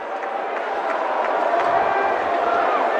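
Stadium crowd at an Australian football match between Brisbane and Gold Coast, a broad steady roar of many voices that swells slightly toward the end, with no distinct single sounds standing out.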